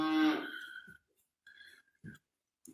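A cow on a farm gives one loud, close moo with a harmonic-rich tone that trails off, followed by a few faint scattered thumps and rustles.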